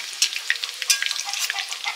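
Chicken pakoras sizzle and crackle in hot oil during a second frying, with close, busy bubbling and popping throughout.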